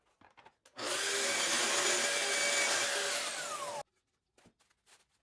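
Sanding a wooden woodworking piece with a kettlebell weighing it down, a loud continuous rasping whir running for about three seconds alone before cutting off abruptly, leaving a few faint knocks.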